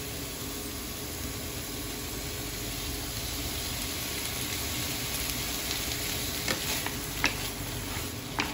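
Bitter gourd and tofu sizzling steadily in a pan as oyster sauce goes in, a constant close frying hiss with a few soft stirring clicks toward the end.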